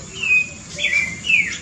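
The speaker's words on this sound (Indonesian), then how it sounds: "Ini cium air coreng" Cium air coreng bird in a large aviary giving a few thin high whistled calls, brief and repeated, over quiet background.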